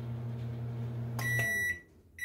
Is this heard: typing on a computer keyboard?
no